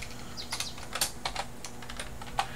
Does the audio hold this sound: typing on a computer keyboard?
yes